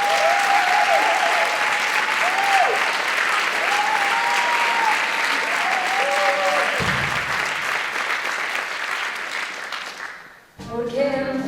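A large musical theatre audience claps loudly and steadily for several seconds, with scattered cheers, before the applause fades and music begins.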